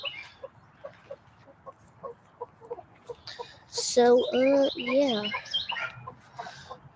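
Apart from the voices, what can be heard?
Buff Orpington chickens clucking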